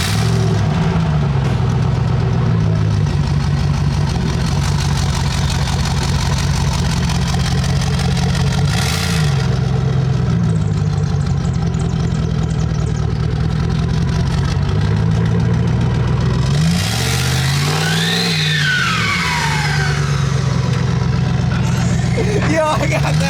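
A turbocharged Ford F150 truck rumbles and revs on a street, engine note rising and falling through several pulls with a sharp whooshing climb near the end, voices talking over it.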